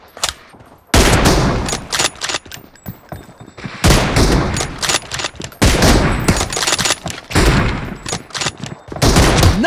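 Dense bursts of automatic gunfire from PUBG, loud and close, erupting in repeated volleys with brief gaps between rapid strings of shots.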